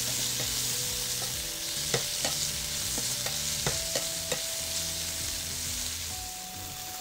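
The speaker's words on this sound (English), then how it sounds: "once my wild mushrooms have been exposed to heat and sauteed" Wild mushrooms sautéing in a pan, a low steady sizzle broken by a run of sharp utensil taps and scrapes, with a faint tonal hum in the background and no one talking.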